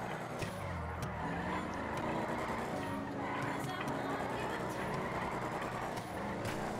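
A Dodge Challenger drifts in the FiveM driving game, a loud sustained engine drone with tyre noise and some sharp bursts, someone talking over it throughout.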